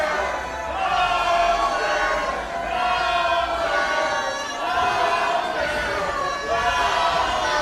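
A dense, loud crowd roars and cheers at a tag team wrestling main event in the Mid-Florida Event Center, Port St. Lucie, Florida, with a steady wall of voices and swelling shouts throughout.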